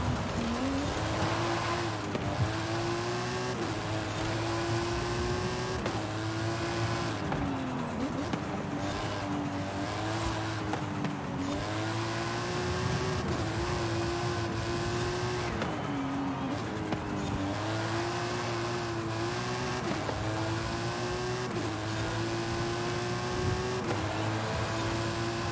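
A car drives on a mixed surface in the racing game Forza Horizon 5, its engine droning loudly and steadily with repeated rises and dips in pitch as it shifts and accelerates, and no talk.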